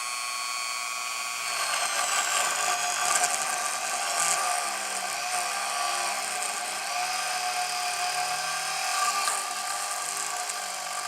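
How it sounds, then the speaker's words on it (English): A high-pitched rotary tool drilling into wood whines steadily, its pitch wavering slightly as the bit bites and loads, with no talking. "So let's drill a hole here"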